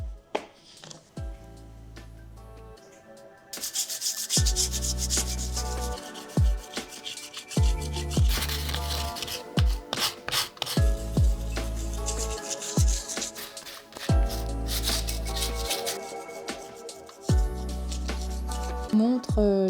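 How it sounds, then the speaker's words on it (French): Wooden coffee table legs sanded by hand with sandpaper sheets, rhythmic rubbing strokes repeating close by with short pauses between passes, alongside a low thumping background. "les mêmes feuilles à poncer que ce que j'ai utilisé pour le contreplaqué"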